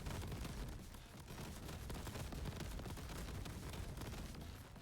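Combat explosions from the video game Crab Champions form a dense, loud, continuous barrage of blasts and gunfire-like bursts that runs throughout without a break.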